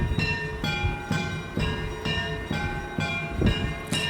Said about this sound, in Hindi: इस तरह से घंटी शंख सब बजाया जा रहा था